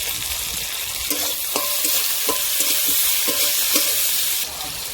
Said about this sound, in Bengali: টমেটো কাঁচা লঙ্কা পেঁয়াজ তেলের মধ্যে ভালো করে ভেজে কষে নিচ্ছি